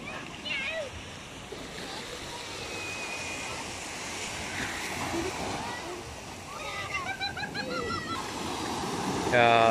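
Surf rolls steadily onto the black sand beach at Villa Buenaflor, a continuous wash of breaking waves with a few louder surges near the end, while people talk over it.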